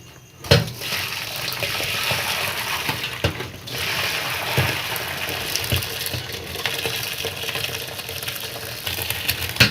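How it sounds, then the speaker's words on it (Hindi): Boiled rice being strained as its water drains away, a steady rushing pour with splashing that runs loud and continuous throughout, with no talking. "अब हम चावलों को स्ट्रेन कर लेते हैं।"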